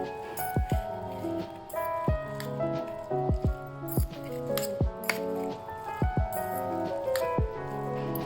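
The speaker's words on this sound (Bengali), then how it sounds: "আমি একটা ফোর্ক দিয়ে পুরোটাকে খুব ভালো করে মিশিয়ে নেব।" A fork works through instant Korean noodles in a bowl, giving repeated wet squishes and light clinks of metal in an uneven rhythm, close and fairly loud, with no talk.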